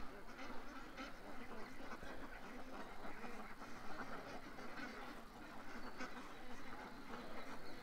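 Ducks quacking at a lake at night, a dense continuous chatter of calls from a flock in the background, with no clear single voice standing out.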